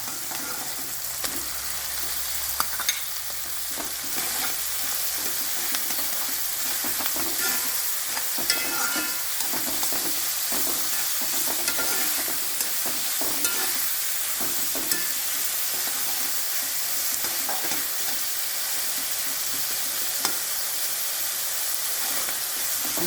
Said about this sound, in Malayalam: ഇതിൻ്റെ ഉള്ളിയുടെ കൂടെ തന്നെ തക്കാളി നല്ലോണം പാടട്ടെ കേട്ടോ